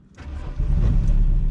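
A car engine cranks and catches on a drift-practice car, a short low rumble swelling quickly into a loud, close running growl.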